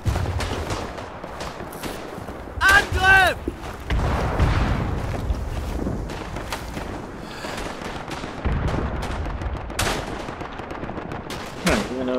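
Machine gun fire in the World War I shooter Tannenberg, sharp bursts of gunshots with echoing reports and distant battlefield fire, loud and continuous, with brief muffled voices underneath.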